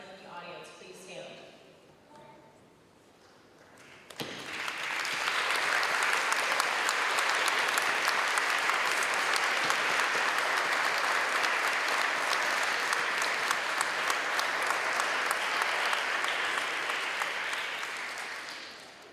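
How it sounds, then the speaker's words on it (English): Veterans Day school assembly audience applauding veterans: after a brief spoken announcement, a large crowd erupts into steady, full applause that holds strongly for about fifteen seconds before easing off. "we would like to invite any veterans in the audience to please stand and be recognized via applause"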